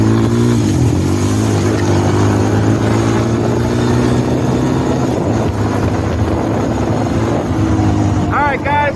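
A Honda TRX250EX 250 ATV engine runs loud and close with a steady droning rumble and slight shifts in revs, continuous across the clip.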